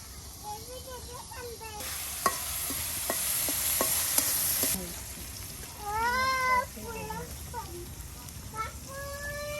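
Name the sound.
onions and chillies frying in oil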